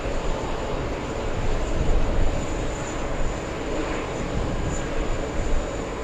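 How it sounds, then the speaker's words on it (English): A JetBlue Airbus A220 jet takes off at JFK airport, heard as a steady, broad engine roar that swells slightly and holds at moderate distance, with no talk over it. "We have JetBlue taking off."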